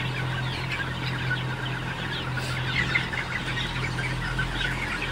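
Many chickens cluck and murmur together inside a blacked-out poultry house at a feeder, a dense close chatter over a steady low hum of ventilation motors.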